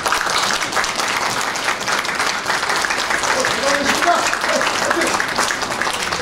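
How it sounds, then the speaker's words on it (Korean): A large audience at a peace and reunification art exhibition applauds warmly and continuously for a committee member, with a voice speaking over the steady clapping. "우리 박주선 위원님께 여러분들 큰 박수 한번 주셔야 되겠습니다"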